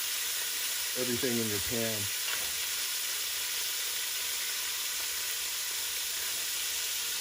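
Ground beef sizzles steadily on high heat in a cast iron pan, a constant broadband frying hiss throughout, with a brief spoken voice near the start.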